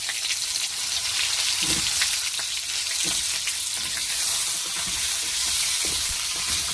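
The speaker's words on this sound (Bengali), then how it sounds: "সবজিটাকে ভেজে নিয়ে দিয়ে দেবো।" Mixed vegetables and potato pieces fry with spices in a pan, a steady close sizzle with occasional stirring scrapes, loud and continuous, with no one talking.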